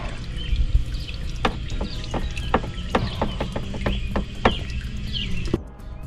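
Used engine oil drains from a 2004–2005 Nissan Titan into a pan as a steady trickle, broken by a run of distinct drips that fall near at irregular intervals before the flow tapers off.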